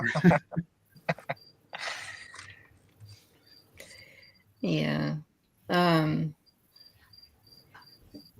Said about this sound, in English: I hear crickets somewhere, and I love that because it kind of fits the vibe.